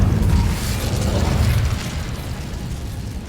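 An Incendio fire spell is cast in the Hogwarts Legacy video game, a loud, close burst of roaring flame that rumbles briefly and then fades over a few seconds, with no voices.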